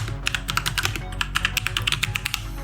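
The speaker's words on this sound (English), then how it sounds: "open up a terminal, type in .NET New Podcast" Rapid keystrokes on a computer keyboard while typing a command into a terminal, close and crisp, with uneven bursts of clicks and no voices.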